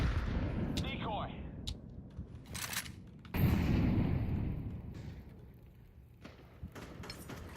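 In a Counter-Strike match, a decoy grenade pops off a scattered series of sharp fake gunshots amid other gunfire and clatter, with players talking over the action.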